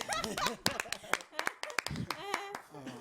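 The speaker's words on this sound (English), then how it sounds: "Let me clap for you." Sharp hand claps ring out in an irregular run, mixed with a person talking and chuckling close by.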